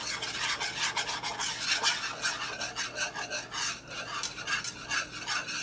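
Thick canned tomato sauce, one 15-ounce can, going into a pan for Southern tomato gravy, with a continuous wet rasping, scraping texture that stays steady and close for several seconds, no voices.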